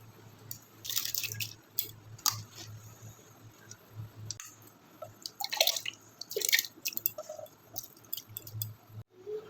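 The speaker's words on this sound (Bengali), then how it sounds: "ভেজে ধুয়ে রাখা মুগ ডালগুলো এর মধ্যে দিয়ে দিচ্ছি।" Soaked chana dal and moong dal are dropped into a pot of water, making soft wet splashes and drips that come in irregular clusters. The sound is close and fairly quiet, with no voice over it.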